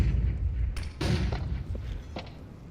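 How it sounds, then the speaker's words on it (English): Flashbang grenade in a video game, thrown and going off as a sharp, muffled boom partway through, then a few fainter thumps and pops after it, with no talk. "Throwing flashbang."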